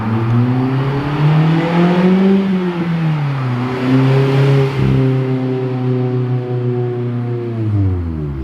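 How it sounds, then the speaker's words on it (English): A Mazda Miata ND fitted with an ISR circuit spec exhaust drives past a bystander, engine note rising and falling through gear changes with a strong, steady exhaust drone, close and loud, nobody talking. "really get the sound of this exhaust from, you know, the bystander's point of view"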